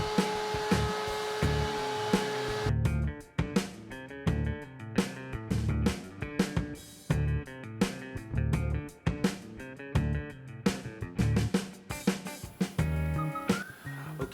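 A CNC router with a 30-degree V-bit engraving fine detail into an acrylic sign for an edge-lit piece. A steady high spindle whine leads into rapid, choppy cutting bursts and shifting motor tones that carry on without pause, close and prominent.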